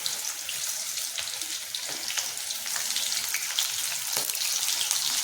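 Pieces of ivy gourd deep fry in hot oil for kovakkai 65, giving a steady, bright sizzle and crackle that stays close and fairly even throughout.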